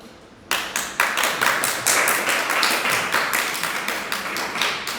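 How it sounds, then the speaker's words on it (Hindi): After a quiet moment, an audience at a spiritual discourse breaks into rhythmic unison clapping, loud regular beats repeating about every quarter second and keeping a steady pulse to the end. "जो अपने ऊपर ताली बजाता है वो समझदार होता है।"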